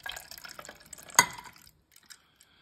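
Liquid poured through a makeshift strainer into a spritzer bottle beside a Lang 36 smoker, a trickling, dripping pour with one sharper splash before it stops and leaves near silence with a few faint drips.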